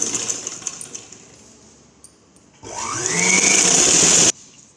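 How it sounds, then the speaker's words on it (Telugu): Sewing machine stitching pieces of an umbrella-style long frock, a brief close whirring run that rises in pitch and stops abruptly after a second or so, following a quiet stretch of faint handling noise. "ఇది కూడా ఇలాగే సేమ్ ఇలాగే ఒక స్టిచ్చింగ్ వేస్తున్నాను."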